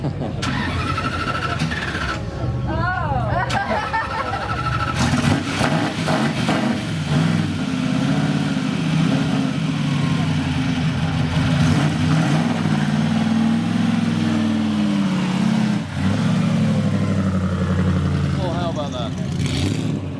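A vintage Alfa Romeo P3 racing car from the 1930s engine runs loud and close, with rough idling rising into repeated throttle revs that stay continuous across the whole stretch.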